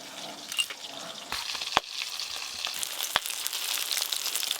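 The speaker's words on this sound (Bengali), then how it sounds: "দেখতে দেখতে এই মাছগুলো সব ভাজা হয়ে গেল" Pieces of large katla fish fry in hot oil, giving a steady, close crackling sizzle with a couple of sharp utensil clicks and no voices.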